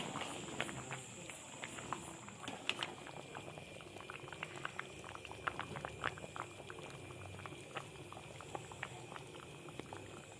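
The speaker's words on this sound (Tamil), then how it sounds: "மூடி வச்சோம்னா நல்லா ஒரு 2 கொதி வரட்டும்." Village-style stingray fish curry bubbling in a covered pot, a continuous quiet patter of small pops and gurgles at close range, steady throughout with no talk over it.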